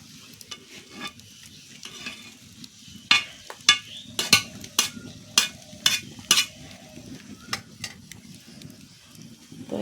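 Mango dal boils and foams in a cooking pot over a strong flame, with a soft low bubbling bed and a run of sharp, irregular pops and clicks, heard close and without talk.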